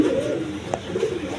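A pair of breeding pigeons coos in low, rolling bursts close by, with one short sharp click in the middle.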